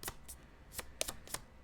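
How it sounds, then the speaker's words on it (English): Tarot cards are shuffled by hand in a quiet room, giving several crisp riffling bursts spaced unevenly over less than two seconds, close and fairly soft. "I shuffled this and then it flipped over and then it flipped off the table."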